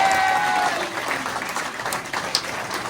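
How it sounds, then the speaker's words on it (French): Audience applause at a French SSV rally championship trophy ceremony, a steady wash of clapping from a crowd that thins slightly toward the end, with some voices underneath. "Et les applaudissements du public."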